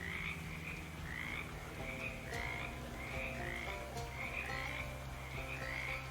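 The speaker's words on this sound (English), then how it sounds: "All of your frogs are just ordinary frogs now, right? Right? Ribbit, ribbit, ribbit, ribbit, ribbit." Frogs croak in a swamp in the video game Shadows Over Loathing, with clear, regular croaks repeating about twice a second over a low ambient hum.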